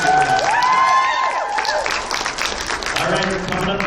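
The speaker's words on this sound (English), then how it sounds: "give him a round of applause." A crowd at a poetry slam claps and cheers loudly while a voice speaks over the applause.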